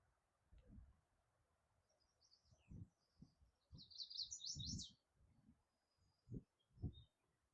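Faint high chirps and twitters from birds outdoors at a rural cabin site come in short scattered bursts, nearly buried under a series of low thumps and rustling noises close by.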